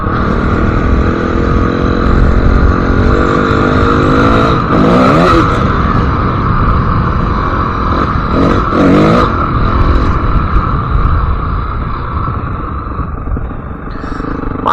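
Motorcycle ridden steadily with a constant loud engine drone and road rumble throughout, gradually easing off near the end; the bike has been taken to a shop for boring work and runs with no clutch oil.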